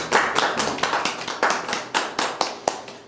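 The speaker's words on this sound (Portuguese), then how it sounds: "Aplausos" Audience at the close of a meditation conference clapping in an uneven, sparse patter of distinct claps that repeat steadily and close by, with no talking.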